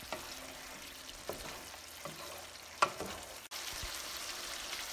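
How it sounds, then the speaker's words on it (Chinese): Beef shank and tendon are stir-fried with light soy sauce in a wok, giving a faint, steady sizzle with a few scattered clinks and scrapes from the spatula. "现在加入两勺的生抽， 继续翻炒均匀。"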